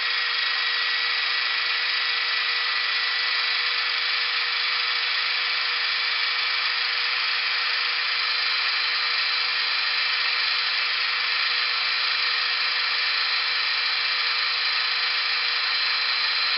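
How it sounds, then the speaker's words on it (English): Modified bead rolling machine running on metal, a steady, loud, unbroken high-pitched motor whine with a fixed tone that holds without change for the whole stretch. "this machine will run about, I don't know, I think it's 10 or 12 inches a minute"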